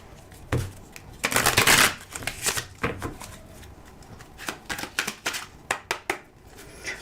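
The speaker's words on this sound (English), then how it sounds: "True Crime Oracle deck. I'm going to go ahead and give it a shuffle." Oracle cards riffle and slap together in quick bursts, a loud shuffle followed by lighter irregular flicks and taps, close up with no talking.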